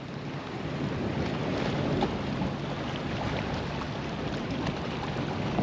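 Steady wind buffets the microphone at a fishing pier on a choppy day, a continuous rushing roar with water sloshing beneath, no voices.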